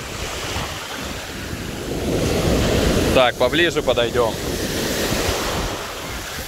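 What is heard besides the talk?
sea waves breaking on the beach at Uchkuevka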